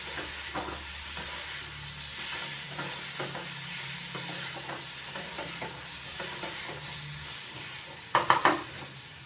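Chicken for orange chicken sizzles steadily in a pan while a utensil stirs and scrapes through it, ending with a few sharp clanks of metal against the pan.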